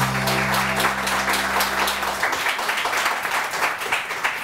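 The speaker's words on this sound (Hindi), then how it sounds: "इतनी तालियां तो कभी आपने मेरी किसी बात में नहीं बजाई यार" A studio audience on a Pakistani morning TV show claps loudly and steadily, a dense burst of applause that swells and holds throughout, with a brief tonal hum at the start fading out.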